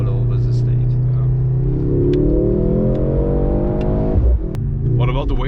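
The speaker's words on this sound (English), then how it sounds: "When I put the acceleration, when I floor it" A 2023 Mercedes C63 AMG with its four-cylinder engine is floored from a start, the loud engine note climbing steadily in pitch through the revs before a brief drop at a gear change, then pulling again, heard close from inside the cabin.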